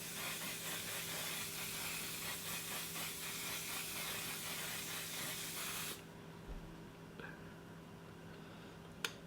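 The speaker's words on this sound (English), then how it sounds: "now we're going to set with my One Size setting spray" A One Size setting spray bottle mists onto a face in a continuous close hiss lasting several seconds, then stops abruptly, leaving quiet room tone with a faint click.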